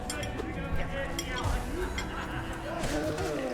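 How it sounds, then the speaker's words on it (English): Plates clink lightly amid a crowd of overlapping voices and laughter at an indoor gathering, with talk running through the whole stretch. "plates clinking."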